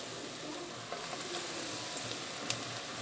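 Battered vegetables such as eggplant deep fry in hot oil, giving a steady, even sizzle with a few small pops. The sound is close and quiet, and no one speaks.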